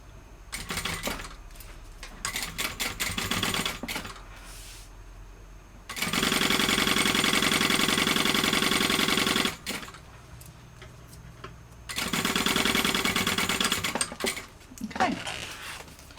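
Sewing machine basting the top edge of a bag: two long steady stitching runs with a pause between, loud and close, with short start-stop bursts and quiet gaps around them.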